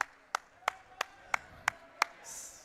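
Six sharp, evenly spaced hand claps, roughly three per second, at a roller hockey game between BGSU and OSU, fairly faint against a quiet hiss and ending in a brief burst of noise.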